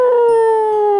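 A dog in the point-and-click adventure game Flight of the Amazon Queen lets out a loud, sustained howl, a steady tonal wail with a slight pitch sag, close and alone with no talk.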